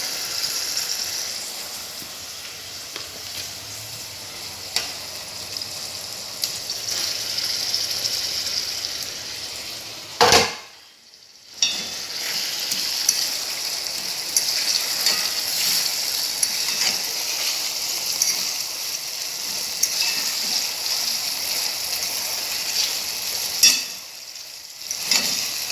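Shrimp fry in a hot pan beside nearly finished rice, a loud, close and continuous sizzle that lasts the whole stretch, broken by one short quiet gap and a few clattering stirs, with no talk.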